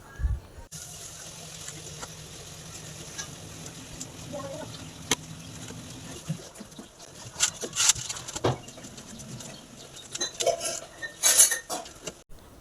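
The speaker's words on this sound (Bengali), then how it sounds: "তারপর আমগুলোকে আমি কেটে নিচ্ছি।" A knife slices mangoes with scattered close taps, scrapes and clinks of blade on board and dish. The sounds come in irregular bursts, fairly quiet, with no voices.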